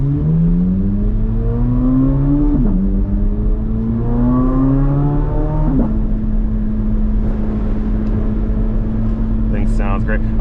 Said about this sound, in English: Stock exhaust sounds amazing